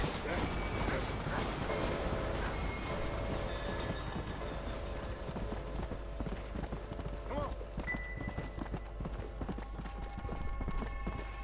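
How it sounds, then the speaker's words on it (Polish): A train rolls past in the Red Dead Redemption video game with a steady rumble and rattle, while horse hooves clip-clop close by throughout. "O, pociąg jedzie."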